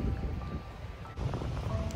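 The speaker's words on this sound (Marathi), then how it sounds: "छान अशा समुद्राच्या लाटांचा आवाज, पक्ष्यांचा आवाज, हलणाऱ्या झाडांच्या पानांचा आवाज" Wind buffets the microphone on the Konkan coast by the sea near a fort, with a low continuous rush of waves beneath it and no voices.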